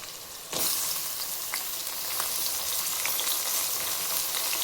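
Chopped capsicum, carrot and beans hit a hot pan for a vegetable rice dish and burst into a loud, steady sizzle with crackling pops, close and continuous, with no voices.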